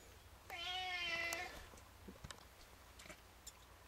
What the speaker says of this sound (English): Peanut the cat is meowing here, and I'm just going to let him meow